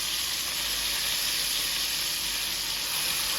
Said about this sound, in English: I have some bacon in my skillet, guys. I just cut a couple pieces in half and put them in the skillet to get brown